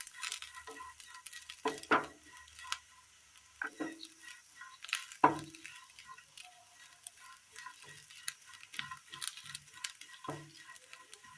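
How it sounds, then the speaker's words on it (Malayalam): Dried red chillies fry in a pan with coconut, clove, cinnamon, fennel and curry leaves, giving a faint, soft sizzle broken by occasional stirring scrapes and light clinks, with no talk. "ഇത് നന്നായി ഒന്ന് വറുത്തെടുക്കാം"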